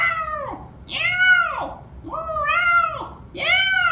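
Cats caterwaul and meow in four drawn-out, wailing yowls one after another, loud and close with short gaps between.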